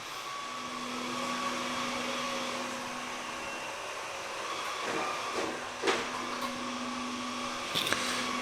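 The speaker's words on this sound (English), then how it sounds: "So here we have the manual control mode. You can tell it to vacuum however you want." A Samsung Powerbot R7040 robot vacuum runs in manual control mode, giving a steady close whirring drone with a constant hum and hiss, plus a few brief louder bumps or shifts in tone near the end.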